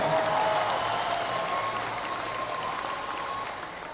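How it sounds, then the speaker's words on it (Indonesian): Audience applause for reform fighters at an Indonesian volunteers' gathering marking 25 years of reform, a steady wash of clapping from a large crowd, fairly loud and fading slightly toward the end. "Tepuk tangan untuk para pejuang reformasi kita."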